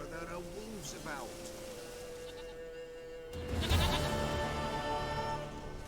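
A goat in the video game Witcher 3 bleats a few times with wavering cries, set against steady ambient game sound that grows louder and busier partway through.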